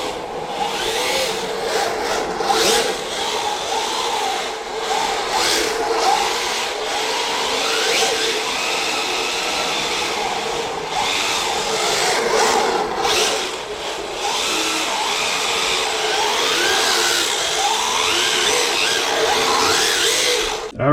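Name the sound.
RC drift car with Hobbywing XR10 stock spec ESC running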